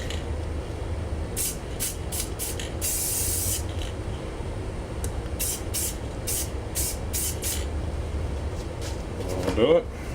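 Rust-Oleum spray paint hissing over a vinyl stencil in a dozen or so short bursts of varying length, one longer spray near the start, close and loud over steady background noise.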